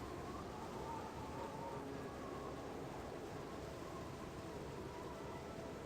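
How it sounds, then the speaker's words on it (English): Rain in the video game Baldur's Gate, a steady, even hiss of falling rain that stays constant throughout with no clear individual drops. "And it's raining."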